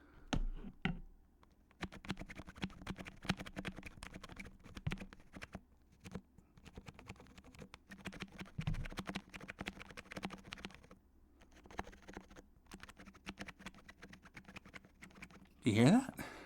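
Typing on an HHKB keyboard, with one key giving a squeaky press among a steady run of clicky keystrokes, heard up close with a short pause before the tapping resumes and a sharper burst near the end.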